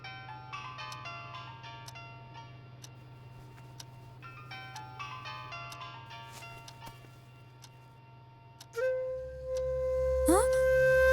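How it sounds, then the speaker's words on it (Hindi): A cheerful melodic phone ringtone plays repeatedly at moderate volume over a low hum, then stops as a louder tone and rustling follow. "आपका फोन बज रहा है।"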